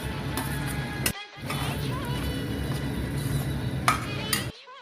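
Gatte dumplings are tipped into a curry with yogurt and spices in a pan for Gujarati gatte ki sabzi, then stirred: steady close scraping and clattering of utensil against pan, broken by two short pauses.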